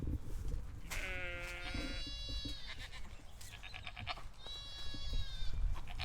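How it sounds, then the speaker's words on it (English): Goats and young kids bleating on a farm, several wavering calls overlapping at close to middle distance over steady outdoor background noise. "Can you hear the goats? Can you hear the kids?"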